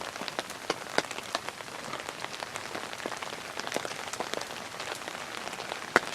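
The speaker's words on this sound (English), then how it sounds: "It started raining pretty hard." Heavy rain pours steadily onto a tarp at a bushcraft campsite, a dense close patter with sharper individual drops ticking throughout and no voices.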